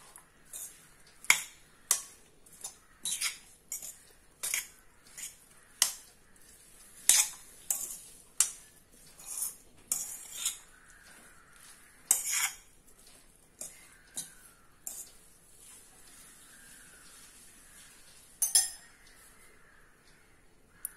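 A utensil tosses a vegetable salad in a bowl, giving scattered light clinks and taps at an irregular pace against a quiet room, with a few sharper knocks among the soft contacts.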